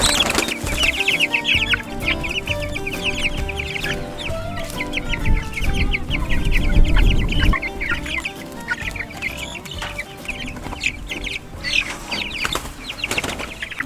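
Chickens cluck and call steadily through the whole stretch, with wing flapping and scuffling mixed in, a busy flock close by with no talk over it.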